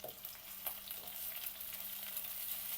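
Chopped onions fry in a pan with green chilies and garlic, giving a soft, steady sizzle and crackle with occasional stirring scrapes. The sound is faint and even, with no voice.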